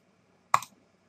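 A single sharp click of a computer mouse button, close and crisp, with a brief decaying tail in an otherwise quiet room.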